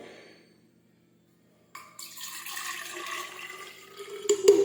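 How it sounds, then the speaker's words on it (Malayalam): Lime water is poured from a big bottle into a glass: after a second and a half of near silence, a steady liquid splash and trickle begins and grows slightly louder toward the end, close by with no voices. "ഒരു ഗ്ലാസ് നമ്മൾ ഒഴിക്കുന്നുണ്ട് കേട്ടോ."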